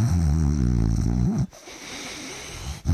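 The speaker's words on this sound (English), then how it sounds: "he had this slightly unusual habit of snoring while he was awake" A man snores while awake, a loud close rasping, pulsing snore lasting about a second and a half, then a quieter stretch before a short rumble at the end.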